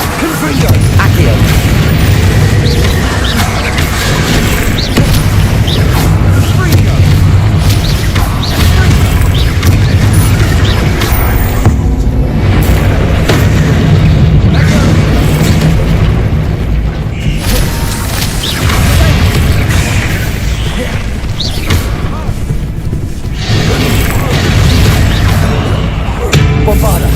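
Bombarda spell blasts in the Hogwarts Legacy video game boom again and again in dense, loud combat, mixed with impacts, crashes and spell-casting voices throughout.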